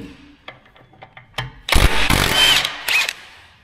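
Power tool on a John Deere 450G dozer transmission taking out four bolts, heard as short faint bursts that give way to a loud, sustained grinding whir lasting about two seconds, then one more brief burst.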